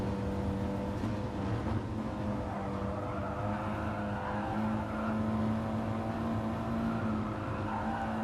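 Audi TT race car in a racing video game at Kyoto Driving Park, a steady engine drone with a held tone shifting in pitch and faint tire noise, heard from on board throughout.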